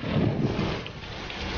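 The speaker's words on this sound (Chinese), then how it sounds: "天哪，怎么突然下雨了？" Sudden rain with thunder during an outdoor meal, a loud, steady wash of rain and wind noise with a low rumble, continuous throughout and without voices.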